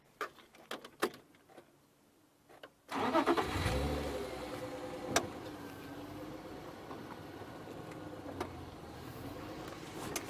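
A safari vehicle's engine starts up on a South African game drive at Arathusa after a few seconds of quiet bush sounds, then runs steadily at a low, close idle as it creeps forward.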